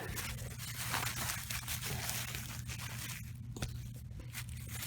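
Indoor artificial field turf being cut during a repair, a faint continuous tearing, scraping rasp lasting several seconds, close up with no talk.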